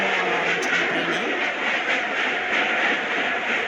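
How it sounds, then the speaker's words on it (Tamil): Train rolling in the video game Indian Bike Driving 3D, a continuous broadband rumble and hiss that stays steady and fairly loud throughout, with no voices. "இன்ஜினில் போய் ஃபார்வர்டு கொடுத்தீங்கன்னா மூவ் ஆக ஆரம்பிச்சிடும் ட்ரெயின்."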